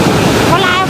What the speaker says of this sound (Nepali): जुन गाडी हिन्ने मोटर बाटोमा खोला दौडिरहेको छ